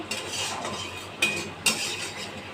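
Ground spice paste of chilli, turmeric and cumin is sautéed in a pan, with a low frying hiss broken by a few sharp metallic spoon scrapes and clinks against the pan.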